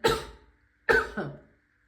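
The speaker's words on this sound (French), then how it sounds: "J'avais pas du tout envie de tousser." Two harsh coughs close to the microphone, the second a double cough, separated by a short silence.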